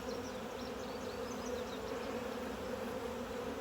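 Honey bees buzzing steadily from an opened hive during an inspection, a dense continuous drone close by with no talk over it.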